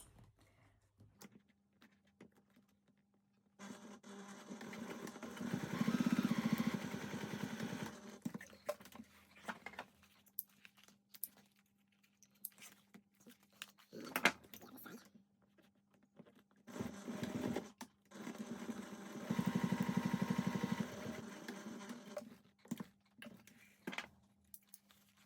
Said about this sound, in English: Now we're going to sew the both short edges.